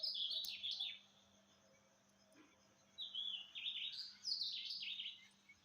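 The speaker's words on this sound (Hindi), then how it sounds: "बहुत ही अच्छी पक्षियों की आवाज़ आ रही थी" Birds chirp and twitter in the early morning outdoors, with bright repeated calls in two bursts separated by a quieter pause. The birds sound moderately close against a soft background hum.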